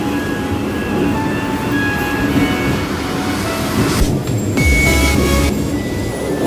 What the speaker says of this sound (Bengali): ব্রিজের নিচে আমাদের ট্রেন খুব শিগগিরই যেতে চলেছে